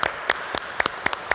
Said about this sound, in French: On va les applaudir encore.